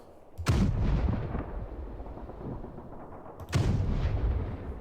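Artillery guns fire in the wargame Panzer Campaigns, with two loud booming blasts a few seconds apart, each trailing off into a long rumbling echo.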